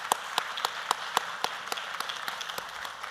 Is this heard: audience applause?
yes